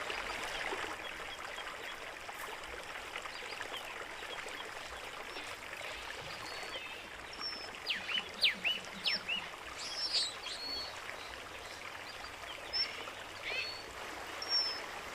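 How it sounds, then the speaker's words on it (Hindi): Water from a valley-floor stream fed from 600-metre mountains flows with a steady broad rush, while scattered bird chirps ring out over it in the middle and later stretches. "घाटी की तलहटी में मौजूद ये पानी 600 मीटर ऊंचे पहाड़ों से बहकर नीचे आता है"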